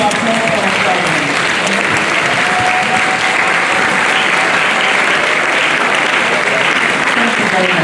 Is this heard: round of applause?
yes